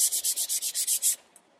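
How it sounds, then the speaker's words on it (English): A plastic part is sanded smooth by hand in preparation for hydrodipping, with about nine quick, even back-and-forth rasping strokes close by, then silence. "I'm going to try to sand it as smooth as possible."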